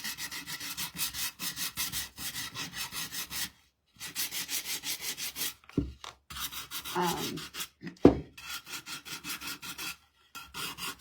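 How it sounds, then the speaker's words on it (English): A power sander works over a wooden egg-shaped Easter bunny kit in repeated rhythmic strokes, rasping and rubbing close by, with a few short pauses and handling bumps between passes. "we'll sand all this and give it some distressing"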